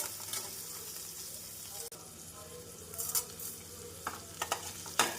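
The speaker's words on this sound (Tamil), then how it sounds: "நாம் உப்பு சேர்ப்பதால் வெங்காயம் விரைவாக வதங்கி வந்துவிடும்" Onions sauté with salt in a pan for brinjal kulambu, a steady close sizzle running throughout, broken by a few soft stirring scrapes and taps toward the end.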